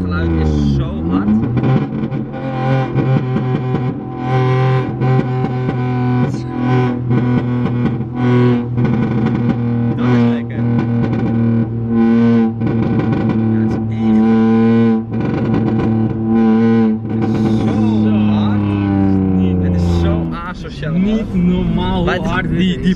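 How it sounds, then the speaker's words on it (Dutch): A car exhaust after a modification, roaring loudly with deep sustained revs and a few sharp pops, under continuous talk. "Maar je hoort ook echt die knal."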